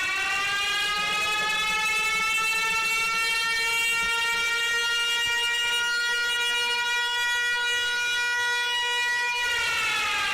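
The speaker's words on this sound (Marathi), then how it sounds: "सात दहा द्या भोंगा वाजवा" A long, loud, steady horn blares continuously for about ten seconds to start a bullock-cart race, a rich harmonic drone that cuts off at the end.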